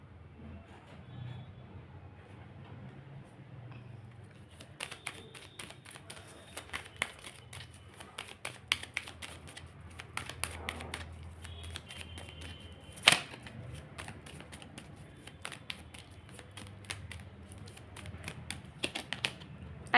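Tarot cards being shuffled: quiet rapid riffling and flicking in uneven bursts, soft and close, starting after a few seconds of near silence and continuing with occasional sharper taps.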